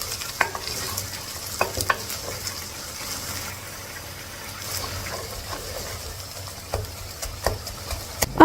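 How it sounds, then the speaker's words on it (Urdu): Thinly sliced onions frying toward light golden brown in a pot for beef curry, a soft continuous sizzle with irregular stirring scrapes and clicks of a spoon, fairly close; no talking. "اب ہم اس میں 2 باریک کٹی ہوئی پیاز کو ایڈ کر دیں گے۔ ہم نے اس کو لائٹ گولڈن براؤن کرنا ہے۔"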